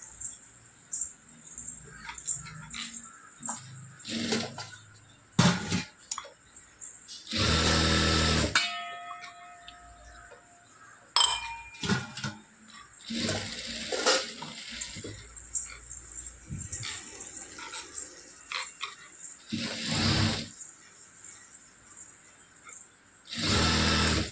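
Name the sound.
sewing machine stitching fabric lining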